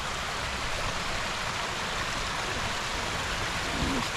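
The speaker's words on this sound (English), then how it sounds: "Got a little waterfall coming out of a tunnel." A small waterfall pours out of a tunnel at Natural Bridge, giving a steady, full rushing splash of water that stays constant throughout with no talking.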